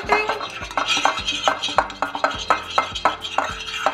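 Sesame oil marinade with cayenne pepper being stirred for seared ahi tuna, a utensil scraping and clinking against a bowl in a quick repeating rhythm, close and clear.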